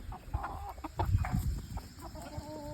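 Chicks and adult chickens clucking together in a backyard flock on the chicks' first day out, with soft overlapping clucks and peeps, occasional louder calls, fairly close and continuous.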